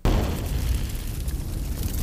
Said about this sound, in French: L'explosion dans le dos.